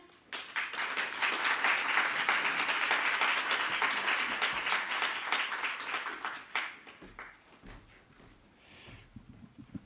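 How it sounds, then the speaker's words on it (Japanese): An audience applauds steadily for several seconds at a symposium keynote, a dense patter of many hands, then the clapping thins and fades away. "それでは皆様拍手でお迎えください"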